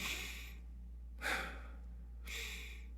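A singer takes intercostal breaths, three airy inhalations in close succession, each a soft hissing rush of air heard close and alone against a quiet low hum.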